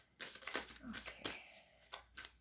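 Oracle cards shuffled by hand in a few quick, soft riffling bursts, close and faint, with no talk over them.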